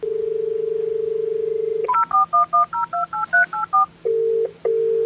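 Telephone keypad tones dial out to place a call: a steady dial tone, then a quick run of about ten crisp touch-tone beeps, followed by two ringback tones, clear and close with no talking.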